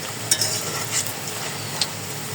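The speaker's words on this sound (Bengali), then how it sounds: "এইভাবে সবগুলো ভেজে নেব। সবগুলো দিয়েছি, এখন উল্টিয়ে দেব।" Potato pieces fry in hot oil in a pan, giving a quiet, steady sizzle with a few sharp clinks from a utensil stirring and turning them.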